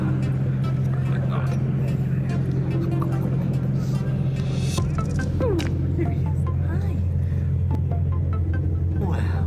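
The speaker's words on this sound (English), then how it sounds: "Sounds like an engine now." Amplified artificial engine-like sound played by an electric car, a steady low drone with a rising tone partway through, heard under background noise and faint talk.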